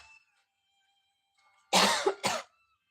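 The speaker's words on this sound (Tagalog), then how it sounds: "Ubo pa mo." Two harsh, close coughs burst out one right after the other following a stretch of near silence.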